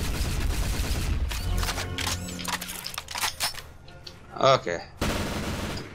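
Gunfire from a shotgun-like weapon in Call of Duty on the Lakeside map, a string of heavy, close blasts in the first seconds followed by scattered shots, with a brief spoken word partway through.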